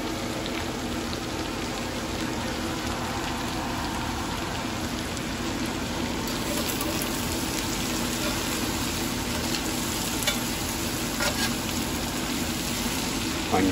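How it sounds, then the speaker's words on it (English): Ground hamburger and onions, seasoned with salt and pepper, fry in a pan on an off-grid stove, giving a steady, dense sizzle and hiss that runs unbroken and fairly loud throughout. "Hamburger and onions starting to look pretty good."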